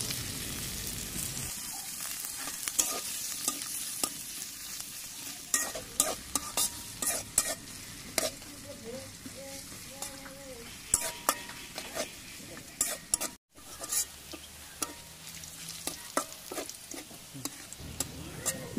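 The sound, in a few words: frying chopped onions in oil in a pot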